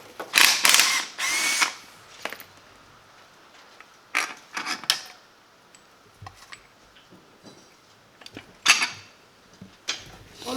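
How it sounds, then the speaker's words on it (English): A hand ratchet clicks and rasps in several short bursts while undoing inlet manifold bolts on a Fiat Punto GT, close up with quiet gaps between. "I can then crack on with the task of undoing the bolts holding on the inlet manifold."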